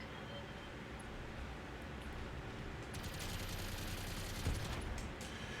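Mech weapons fire in the BattleTech game during a physical attack, a dense roar of blasts and crackling impacts building over steady rumbling noise, with a heavier hit near the end.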